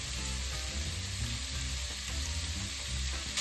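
Pumpkin, potatoes and speck sizzle and fry steadily in a pan, a continuous close, even crackle with no talking.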